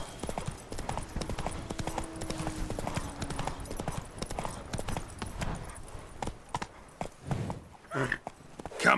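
Horse hooves clip-clop steadily in The Witcher 3 as the horse walks at a moderate pace. Brief game sounds and movement noise come and go around the hoofbeats.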